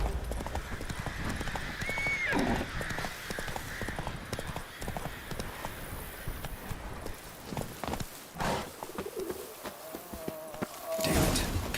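Roach, the horse in The Witcher 3: Wild Hunt on PC, clip-clopping briskly at close range, hooves rapid and regular. A short whinny breaks in, then the hoofbeats slow and thin out toward the end.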